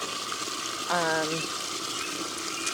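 A compost mixture is poured over plants, making a steady, close splash and gush of liquid throughout, with a brief tonal sound partway through.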